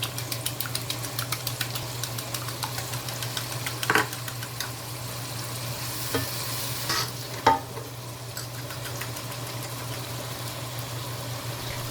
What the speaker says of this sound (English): Beat 1 egg thoroughly and add it a little at a time.